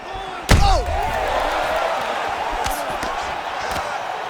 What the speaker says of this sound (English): You hear the crowd react every time they come together because they understand.